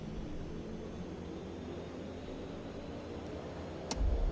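The Quest Kodiak's engine in X-Plane 11 drones steadily as a low, constant hum, and a brief click sounds near the end as the level lifts slightly.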